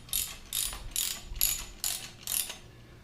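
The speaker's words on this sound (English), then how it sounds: "We can tighten that with our socket wrench." A 13 mm socket wrench ratchets while tightening a nut during bucket assembly, five quick clicking bursts in an even rhythm, close and alone.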